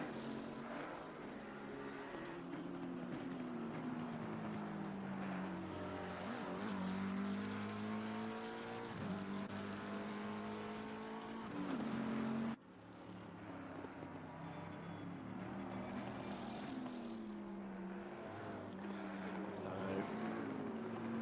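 Several GT race cars lap the Zolder circuit in the ACC GT Sprint Series sim race, engines droning steadily with rising and falling pitch sweeps as they pass and shift, continuous and loud throughout.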